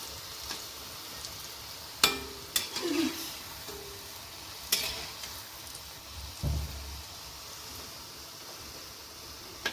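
Urad dal jalebi fries quietly in hot oil with a soft, steady hiss, broken by a few sharp clinks and scrapes as the pieces are turned over.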